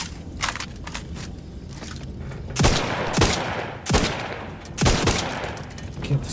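In the video game Outer Worlds 2, the player fires a secondary gun, and several loud bursts of rapid shots ring out in quick succession over a steady background rumble.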